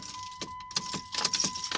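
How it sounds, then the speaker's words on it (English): Keys jangle and click as a car key goes into the ignition and turns, giving a few sharp metallic rattles close by, with a steady electronic tone underneath and no engine catching. "So you put your key in ignition"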